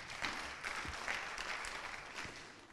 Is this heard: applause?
yes